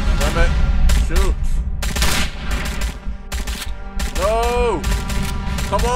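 Rapid bursts of rifle gunfire ring out in the mobile shooter game Sniper: Ghost Warrior, loud and punchy with mechanical clicks between volleys, while someone talks excitedly over the action.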